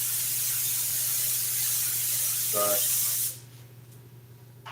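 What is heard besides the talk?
spraying a cleaner inside a car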